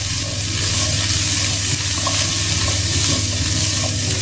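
All-purpose seasoning is stirred into a vegan dish in a pan, with a steady close sizzle of frying running throughout and a faint scrape of stirring, no voices.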